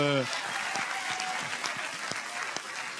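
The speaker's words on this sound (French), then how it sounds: "Julia, on peut applaudir Monsieur Koutas" Studio audience on a French reality TV show applauds in a steady, dense wash of clapping that carries on throughout, with a host's voice briefly heard at the start.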